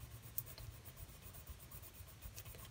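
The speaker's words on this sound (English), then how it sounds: "Be sure to keep moving the pencil down the paper so that you don't get too much dark in one area." Pencil shading on paper, soft rapid back-and-forth scratching strokes in a steady rhythm, close and faint, with no talk.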